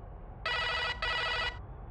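An old telephone's bell rings in two loud, bright bursts separated by a brief gap, heard clearly on its own with no talking over it.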